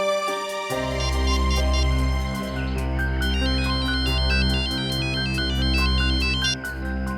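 A phone ringtone plays a bright repeating electronic melody over a sustained low tone, loud and close, starting after a brief moment of quiet and continuing steadily with no talk.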